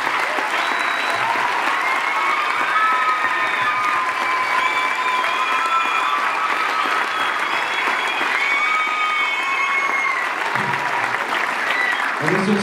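A theatre audience applauds the technical crew, with dense, steady clapping from a large crowd throughout and a few voices calling out within it.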